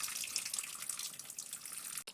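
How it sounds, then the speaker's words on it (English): Distilled water poured through a potted plant's soil, trickling and splashing steadily as it drains out the bottom, a continuous close watery rush that cuts off abruptly near the end. "we're just going to pour it through the pot all over until water pours out the bottom"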